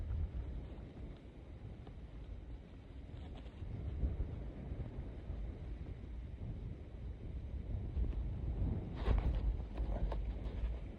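Wind gusts across a river during bass and sturgeon fishing, a steady low rumbling buffet against the microphone with a slightly stronger surge near the end; no voices.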